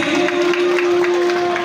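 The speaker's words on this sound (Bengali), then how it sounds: "নিচ্ছেন আপনারা জোরে করতালি প্লিজ" Dense, steady clapping from an audience at a formal felicitation ceremony carries on throughout, with a constant electrical hum from the sound system underneath.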